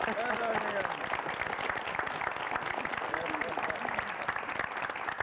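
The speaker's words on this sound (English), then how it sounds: "Deserves a round of applause." Audience at a local community gathering claps in a brisk, fairly quiet round of applause lasting several seconds, with voices mixed in underneath.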